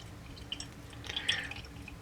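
Slag Lager, a pale Belgian pilsner, poured into a glass: soft, quiet trickling and fizzing with a few small splashes and bubbly drips, close and gentle, with no talk.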